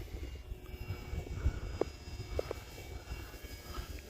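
RC airplane fitted with skis flying past over snow: a faint, distant engine drone held steadily throughout, low and diffuse, with no voices.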